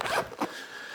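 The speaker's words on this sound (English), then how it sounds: "And then you can just zip this up." A zipper on a blue sling bag pulled shut in two quick, close, soft strokes.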